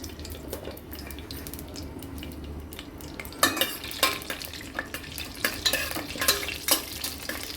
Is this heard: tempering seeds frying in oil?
yes